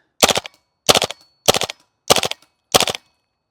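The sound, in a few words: GHK G5 airsoft rifle firing BBs on full auto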